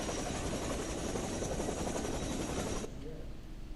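Helicopter flying relief and rescue supplies to the cloudburst-hit area of Dharali, Uttarkashi, heard as a steady, loud rotor and engine roar that cuts off abruptly near the end, leaving a quieter background.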